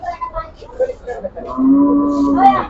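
A large bull at a cattle market lets out a long, deep moo close by, following a few seconds of indistinct background voices.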